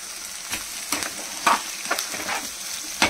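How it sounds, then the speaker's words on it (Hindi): Onions frying in a pan for mutton rogan josh, a steady close sizzle broken by periodic louder scraping stirs roughly every half second, with no talk. "अच्छे से फ्राई करेंगे प्याज को।"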